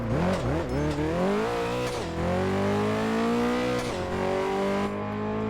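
A car engine in the racing game Test Drive Unlimited 2 revs and climbs through working gear changes, rising in pitch, dipping at each shift, then pulling again, loud and continuous with no talk.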